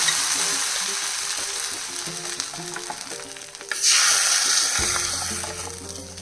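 Spices for ginger pachadi sizzle as they are tempered in hot oil, a steady crackle that flares sharply partway through when the hot oil meets the dish, with no speech.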